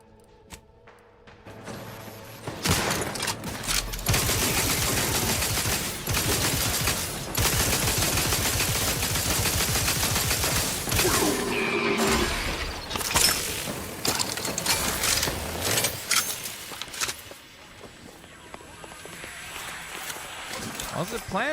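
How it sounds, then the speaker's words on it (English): Machine gun fire in The Outer Worlds 2, with sustained rapid bursts of loud gunfire mixed with mechanical clatter and footsteps, running for much of the stretch while someone talks over it. "Machine gun."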